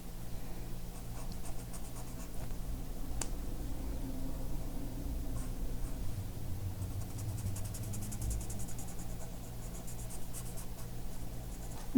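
PARKOO permanent markers coloring a drawing, with soft, steady scratchy strokes of the felt tips on paper running throughout, close and quiet over a low background hum.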